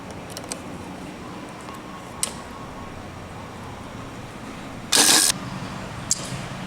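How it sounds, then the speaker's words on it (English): A Honda Acty kei truck starter motor, removed and bench-tested off a 12-volt supply, spins up in one short, loud whirring burst over a quiet background, with a couple of faint clicks before and after. "It seemed to appear that the starter is fine. The gear is pushing out and it's spinning."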